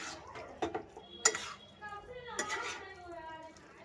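Leftover roti masala being stirred in a pan, a spoon scraping and clinking against the metal in a few separate knocks and scrapes, close and fairly quiet.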